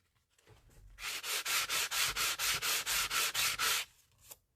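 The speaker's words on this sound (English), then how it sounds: "You can use your sanding block on the two-tone," A sanding block rubs rapidly back and forth across embossed two-tone cardstock, about a dozen even, close strokes in a steady rhythm, crisp and alone with no talking.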